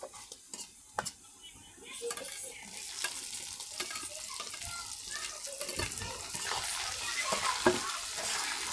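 Garlic, chili and onion fry in oil in a pan for home-style pasta, a steady sizzle under repeated scraping and stirring clatters of a utensil against the pan.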